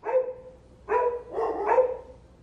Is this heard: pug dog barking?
yes